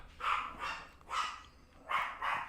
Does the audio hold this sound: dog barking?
yes